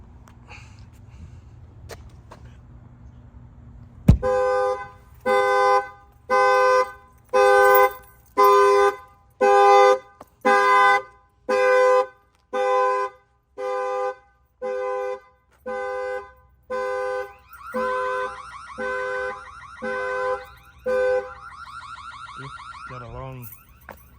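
A factory car alarm sounds a long run of loud, evenly spaced honking blasts, then shifts to a faster warbling tone near the end.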